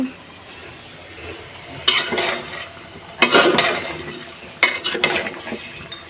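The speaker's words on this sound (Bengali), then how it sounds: "ছোটো বোন হচ্ছে নারিকেল কুড়াচ্ছে" Coconut grated by hand in a home kitchen gives three rough, rasping scraping bursts of a few seconds each, close and fairly loud, over a steady low background hiss with no voices.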